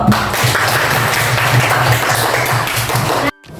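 A 4th-grade class of children in an Islamic studies lesson applauds together, producing a steady, dense clapping that runs without a break and then cuts off abruptly.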